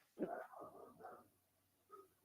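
A dog gives a single short, muffled bark, followed by a faint second yelp a moment later. Both are quiet against a near-silent background.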